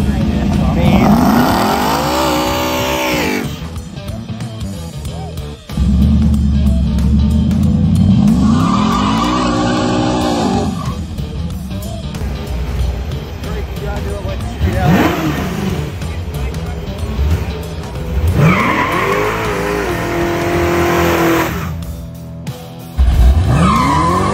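A Ford F100 truck revs hard and its tires squeal through a long burnout at a truck cruise event, engine pitch rising and falling in loud repeated surges, with occasional voices.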